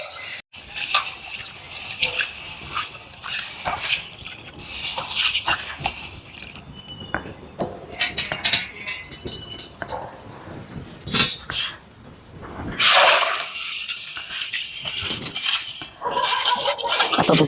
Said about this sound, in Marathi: तुरी धुवून आणि त्याच्यामध्ये टाकून देऊ